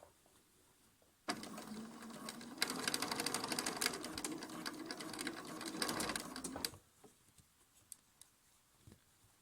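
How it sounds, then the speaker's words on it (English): A sewing machine stitches over pins while piecing an elongated Drunkard's Path block, a close, continuous mechanical whir that starts suddenly, runs for about five seconds at steady speed, then stops, leaving faint taps. "If I am sewing over pins, I will make sure that I put the needle down shortly before the pin."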